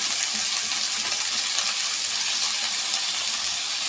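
Fresh spinach (palak) leaves tossed into a hot pan of fried, long-sliced onions give off a steady, loud, even sizzling hiss that holds without a break throughout.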